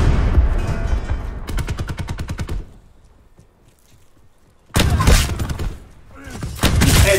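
Shotgun blasts from an SG 12 secondary in Call of Duty Black Ops 4, a dense run of sharp reports followed by a quiet lull, then another loud burst of gunfire near the end.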